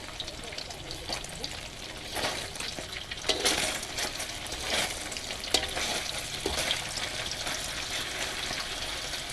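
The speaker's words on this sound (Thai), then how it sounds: "ขั้นตอนแรกก็จะเป็นทอดเต้าหู้ก่อนนะคะ" Tofu frying in a pan, a soft continuous sizzle and crackle with occasional stirring scrapes and clinks, fairly faint and close.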